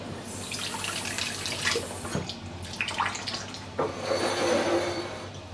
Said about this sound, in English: Let's wash it under the tap